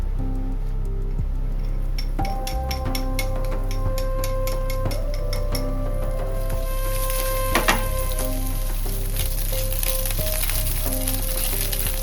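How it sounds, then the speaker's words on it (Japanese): Whitebait (shirasu), about 50 g, frying in olive oil in a frying pan, a steady sizzle running throughout with occasional clinks and stirring sounds of utensils against the pan, accompanied by soft background music. "フライパンにオリーブオイルを敷 き、しらす 50g を炒めます。"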